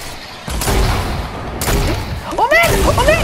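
Rocket explosions in a video game, three loud booming impacts in quick succession, each with a harsh crackling burst, the last mixed with whooshing and squealing game effects and excited talk.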